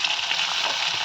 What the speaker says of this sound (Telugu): ఉల్లిపాయలు కొద్దిగా మగ్గిన తర్వాత టమాటా వేసేసి టమాటా కూడా కొద్దిగా